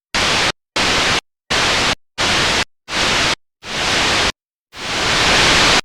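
Synthesized white noise risers play as six short hissing bursts with gaps between them, each swelling more slowly than the one before, and a final long burst builds gradually to full loudness.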